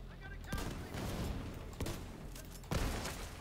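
Gunfire crackles in The Division 2, with several sharp, loud bursts punching through a busy combat soundscape at irregular intervals, and a voice talks between the shots.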